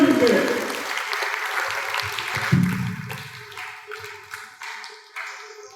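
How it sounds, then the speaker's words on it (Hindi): An audience at a 100th birthday and Christmas celebration claps scattered and uneven, fading into a few sparse claps while someone talks over it. "आप ताली क्यों बजाए?"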